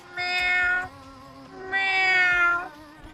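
A cat meows twice, loud and close, each call drawn out for under a second with a short pause between them.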